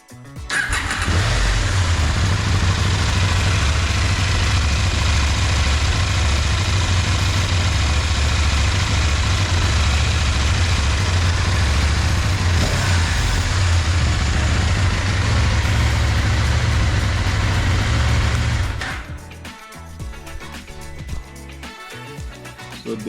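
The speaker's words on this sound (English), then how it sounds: "So let's check the sound of this crazy engine." The engine of a KTM 890 Duke motorcycle with 26,000 on the clock, fitted with an upgraded cam chain tensioner, starts and idles loudly and steadily for about eighteen seconds before cutting off, leaving quiet clatter.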